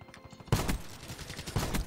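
Shotgun fire in Black Ops 3 comes as a sudden loud blast. Dense, rapid follow-up shots and impacts come next, close and punchy, within busy game noise.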